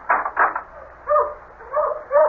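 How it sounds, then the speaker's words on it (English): Several dogs bark on a moonlit night in an old radio mystery drama, a few sharp barks followed by howling yelps, moderately loud and a little distant, with no voices over them. "Damn dogs are all stirred up again."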